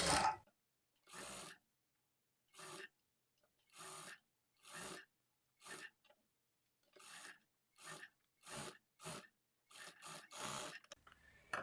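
A sewing machine stitching the lining of a blouse, about a dozen short separate whirring bursts of stitching with quiet pauses between, close and fairly soft, no voices.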